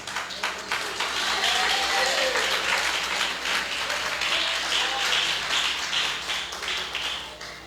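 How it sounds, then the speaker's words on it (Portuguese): A church congregation applauding during a communion celebration service, a sustained mid-level wash of clapping with a few sharp individual claps and a faint voice, easing slightly toward the end. "E aplaude a Jesus."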